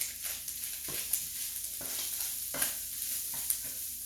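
Chicken being tossed by hand with garlic, cracked pepper, salt and olive oil in a bowl, giving close, steady wet squelching and scraping with a few sharper clicks, no talking.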